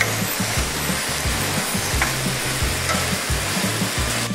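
Pork stir-frying in gochujang sauce over high heat for Korean jeyuk bokkeum, a loud steady sizzle with rhythmic scraping strokes of a utensil against the pan, close up and with no talking.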